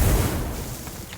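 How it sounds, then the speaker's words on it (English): A single grenade explosion in the game Asterigos: Curse of the Stars, a loud low boom at the start that decays quickly into a rumbling tail, with no talking. "He's chucking grenades."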